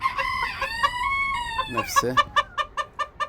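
A domestic rooster among backyard chickens crows a long, loud, close cock-a-doodle-doo, then breaks into a quick series of rhythmic clucks, with a voice briefly speaking underneath.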